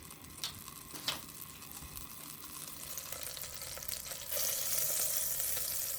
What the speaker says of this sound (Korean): 예열된 팬에 버터 1큰술을 넣어서 살짝 녹여준 뒤 양파를 넣어 볶아주다가 사과도 넣어서 볶아주세요